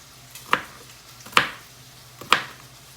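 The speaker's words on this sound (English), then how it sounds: "Let's mince it up and press it and then throw it in with the chicken." Garlic cloves being minced with a knife on a cutting board: three crisp, separate chops about a second apart, close and clear over a faint background hum.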